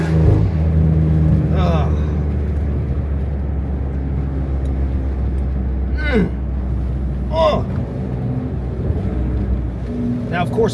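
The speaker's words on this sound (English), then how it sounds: "Get a little rolling anti-lag." A tuned, catless 600 hp BMW S58 X3M rumbles and revs with rolling anti-lag, its deep engine drone broken by a few sharp bursts and rising surges, while a voice gives short exclamations over it.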